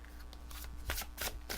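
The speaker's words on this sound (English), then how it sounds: "You can shuffle them until they pop out." A deck of tarot cards being shuffled by hand, with a few quick, soft riffling bursts close by in a quiet room.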